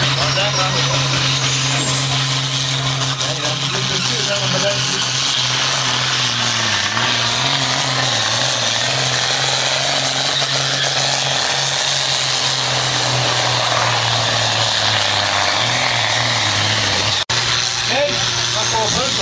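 A powerful tractor engine at a night tractor-pulling event in Sønder Hygum roars loud and continuous for the whole stretch. A voice speaks over the drone.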